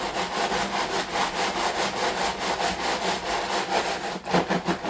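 Salted sweet potato and potato french fries shaken around in a container, a steady rhythmic rustling and scraping close up, repeating pulses for the whole stretch with no talk.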